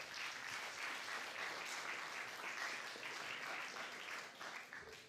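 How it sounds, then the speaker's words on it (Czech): Audience at a short film festival applauding a first-prize winner, a sustained wash of clapping from a crowd heard at a moderate distance, fairly even throughout and tapering slightly at the end. "Takže tleskáme i tak první ceně v této kategorii."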